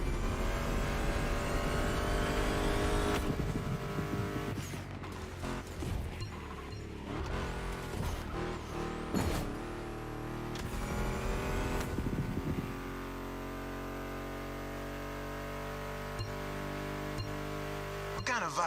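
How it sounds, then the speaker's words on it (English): A Mustang GT muscle car engine in the video game The Crew Motorfest roars and revs at high pitch, rising and falling through gear changes, with a quieter steady drone toward the end. "Meshes well with the sound of the engines, you feel me?"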